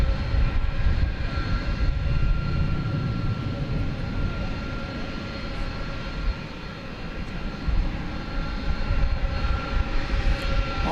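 A jet airliner in Yam Dreaming livery, bound for Sydney, rumbles steadily at DFW Airport, a broad low engine roar holding close and even throughout with a thin whine above it.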